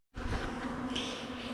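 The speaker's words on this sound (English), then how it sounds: "See all those bees down on the ground here?" Honeybees swarm near a hive with Mathew queens, making a dense, steady buzzing hum that starts suddenly and stays loud and close throughout, with no voices.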